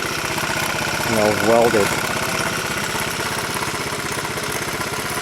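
A 1984 Honda Z50R minibike engine runs at a steady, close, buzzy idle throughout, while someone talks over it and briefly drowns it out.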